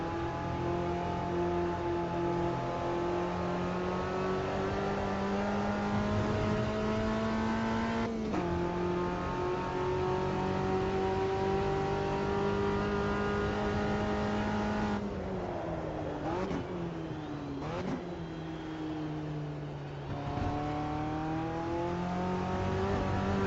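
Race car engines in the Automobilista 2 racing game drone loud and steady, with sharp pitch drops at gear changes and brief dips when lifting off, the engine note rising again after each shift. No one talks.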